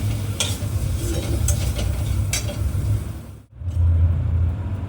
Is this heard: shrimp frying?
yes